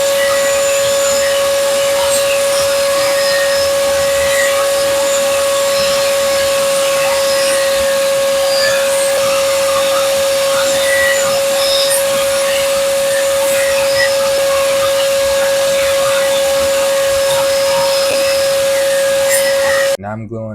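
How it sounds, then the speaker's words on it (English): A power saw runs steadily while cutting miters on pine strips for a wooden box lid, a continuous high whine with a constant tone that stops abruptly near the end. "Now I'm cutting miters on the strips."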